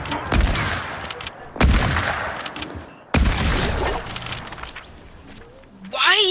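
Three loud hunting rifle shots ring out in a video game, about a second and a half apart, each a sharp crack with a long reverberant tail, followed by a brief chirping electronic tone at the end.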